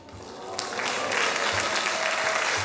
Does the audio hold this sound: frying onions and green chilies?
no